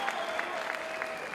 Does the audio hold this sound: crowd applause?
yes